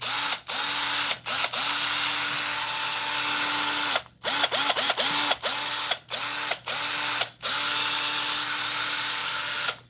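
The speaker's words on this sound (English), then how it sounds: "It's a hyper tough drill." A Hyper Tough cordless drill whirs loudly in repeated bursts, the motor spinning up and cutting off again and again, with short gaps and a few rapid on-off pulses, close and with no voices over it.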